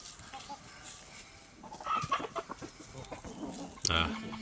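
A large tiger breed chicken clucking faintly at a distance among colourful farm chickens, with soft low background noise and a sharper squawk near the end.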